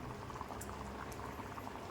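A thick curry of elephant foot yam bubbles and simmers steadily in a pot, soft popping blips over a low continuous burble, close and quiet.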